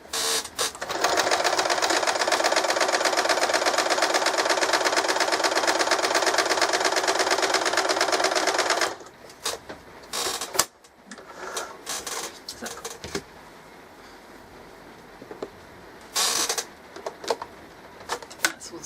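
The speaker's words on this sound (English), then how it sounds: "that's all the sewing done." A sewing machine stitches a clamp bag closed with a steady, loud mechanical whir for about nine seconds. Then it stops, leaving quieter handling noises and brief bursts of motor sound.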